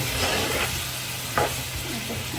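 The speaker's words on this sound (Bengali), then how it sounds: "এখন একটু কষাই নেব" Green, red and yellow bell peppers with five-spice, cumin, coriander, chili powder, salt and mixed herbs sizzle and fry in a pan, with a couple of brief stirring scrapes over the steady crackle.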